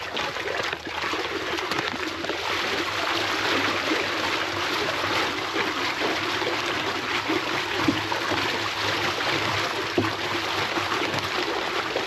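Water runs steadily through a farm irrigation setup used to mix and dissolve fertilizer for berry plants, a continuous close trickle and rush with no talking.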